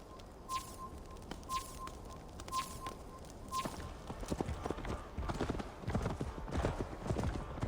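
Horse hooves clip-clopping in Assassin's Creed Valhalla, slow rhythmic beats at first with a repeating tone, then faster, louder galloping hoofbeats.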